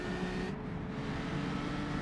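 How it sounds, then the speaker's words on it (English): A historic race car rumbles as the throttle opens out of a hairpin at the Dundrod circuit, a brief, distant, low engine drone that stays steady and muted throughout. "Nice little rumble as he hit the throttle coming out of the hairpin there too."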